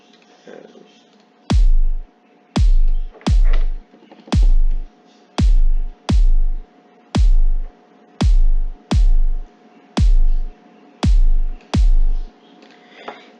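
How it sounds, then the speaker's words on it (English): Gravity Kick 26 kick drum sample sequenced in FL Studio, twelve deep, punchy hits in an uneven, repeating pattern, each with a sharp click and booming low tail, played alone with a faint background hum. "and it's this Gravity Kick"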